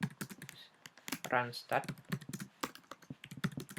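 Rapid keystrokes on a computer keyboard type out a terminal command, close-miked and crisp, interleaved with a voice talking over the typing.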